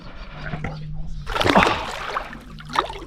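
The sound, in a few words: giant trevally (GT) fish released back into the water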